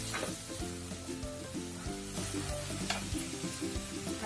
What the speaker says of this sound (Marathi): आपण थोडं मीठ टाकून घेऊ, आपला कांदा लवकर ब्राऊन होईल